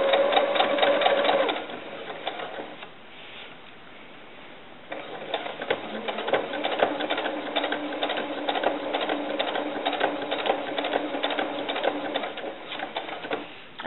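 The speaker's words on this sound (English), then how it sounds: "I'm just going to start sewing." A sewing machine stitches an elastic casing on a small doll bra, its rapid mechanical whir running in bursts with a brief pause, close and fairly loud, with birds cooing faintly in the background.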